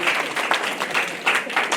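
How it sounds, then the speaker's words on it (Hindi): Church congregation at Healing Tower Church clapping for a family, uneven bursts of applause from a gathered crowd rising and dipping in waves, fairly close and loud. "ताली बजा दो उस परिवार के लिए एक बार"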